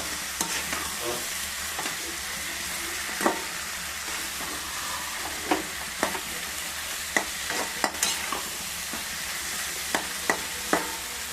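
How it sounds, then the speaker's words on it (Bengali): Prawns sizzle steadily in a hot pan, a constant soft frying hiss broken by occasional sharp clinks and scrapes of stirring, close and without talk. "এরপরে আমি দিয়ে দেবো আমার চিংড়ি মাছগুলোকে। এরপরে হালকা একটু ভালো করে ভাজা করে নিয়ে"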